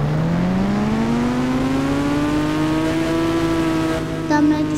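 A fire bike's engine revs, with its pitch climbing steadily and smoothly over several seconds close by near an airport. The engine then shifts tone abruptly at the end.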